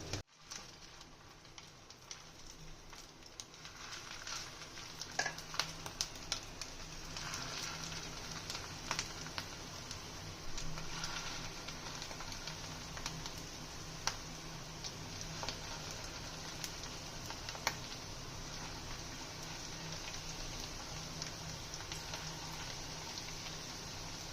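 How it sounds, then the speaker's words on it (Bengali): Steady sizzling and crackling of vegetable and lentil fritters frying in hot oil, with scattered pops, continuous and fairly quiet throughout. "বড়াগুলো উল্টে দিয়েছি, একটু লাল লাল করে ভেজে নেবো"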